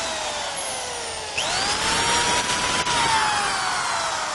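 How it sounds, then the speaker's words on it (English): A power drill bores into a BMX bike frame, whining steadily and then rising in pitch as the bit bites in, loud and close throughout with no talk. "We're going to drill some holes in Phil's frame for no reason."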